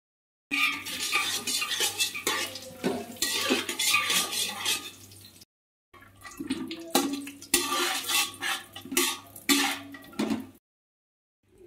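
Vegetables fried in ghee and rice are stirred in a pan, a run of close scraping and clinking strokes over a soft sizzle, pausing once and then resuming in the same rhythm.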